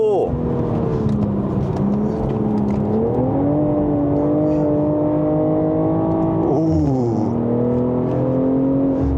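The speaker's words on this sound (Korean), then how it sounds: "이 직렬육기통의 매끄러운 질감하며 아 이게 사운드가 어, 사운드 괜찮은데 뒤에 팝콘도 살짝 터져주고 있고요" A new BMW M440i xDrive's smooth inline-six engine runs steadily with rising and falling revs and a few faint exhaust pops, close and loud throughout.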